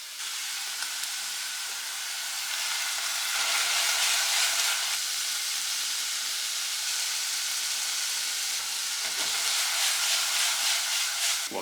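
Spices frying in a hot pan give a steady, loud sizzling hiss across the whole stretch, with bursts of stronger spitting and steam, and nobody speaks.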